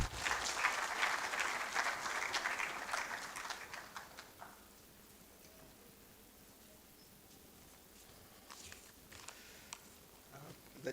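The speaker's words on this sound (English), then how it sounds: "As he comes, please, a round of applause." An audience at a university research conference opening ceremony in Ghana applauds in a broad, moderately distant wave that fades after a few seconds into a few scattered claps over room hiss.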